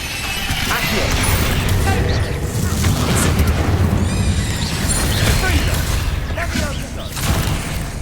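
Bombarda explosion spells from the Hogwarts Legacy video game: loud booming blasts and crackling impacts, mixed with game effects and spell chimes and fairly continuous at close range.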